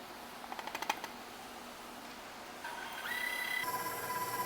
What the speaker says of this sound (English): So I'm going to start paddling that for a minute.